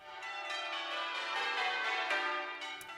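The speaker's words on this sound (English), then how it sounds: "Today marks 100 years since the bells of Manchester Cathedral were cast" Manchester Cathedral's church bells ring in a dense, sustained wash of overlapping peals, steady and fairly loud throughout with no voices.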